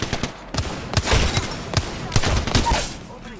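Gunfire in the video game Apex Legends: several loud, sharp shots burst in quick irregular succession close by, with faint voices underneath.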